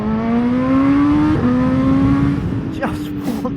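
A BMW M1000XR motorcycle accelerates hard up close, its engine tone climbing steadily through quick shifter gear changes with brief dips between, loud and continuous under wind rush.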